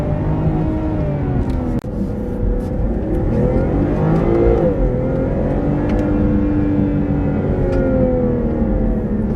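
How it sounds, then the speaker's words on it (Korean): A BMW 540i xDrive M Sport (G30) engine revs hard from about 4000 RPM in third gear, climbing steadily in pitch under heavy acceleration, loud and close, with a brief dip partway through. "지금 RPM 4000 정도 가 있는 상태에서 급가속"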